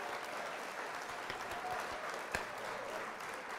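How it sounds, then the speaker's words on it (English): Canned applause effect triggered during a Gundam Barbatos HG model-building livestream, a faint, even clapping bed with one brief sharp knock partway through. "I'm going to hit the old applause here"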